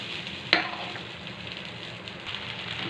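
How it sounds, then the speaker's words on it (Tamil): Beetroot rice is stirred in a hot pan, a soft continuous sizzle with a sharp scrape of the spoon near the start and light shuffling stirs after, close and fairly quiet. "இந்த மாதிரி நல்லா கிளறி விட்டுக்கிடுங்க. நல்லா மிக்ஸ் ஆகட்டும்."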